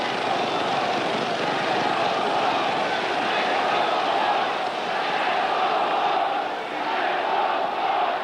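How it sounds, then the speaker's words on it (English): A boxing crowd at Madison Square Garden in 1965, during Floyd Patterson versus George Chuvalo, sends up a loud, continuous, rumbling roar that swells and holds steady, with voices blurred into a dense wash. "Crowd is chanting, "Let's go, Floyd.""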